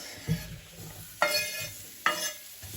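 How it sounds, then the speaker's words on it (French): Courgettes going into a pan for a curry, with strong frying sizzle and a few bright scraping clatters of stirring against the pan at close range, no talking. "J'ajoute les courgettes."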